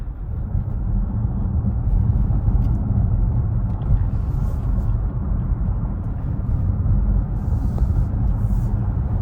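A Kia EV6 electric car on the road, heard from inside as a steady, low rumble of tyre and road noise with a constant, fairly loud hum and no engine note or talking.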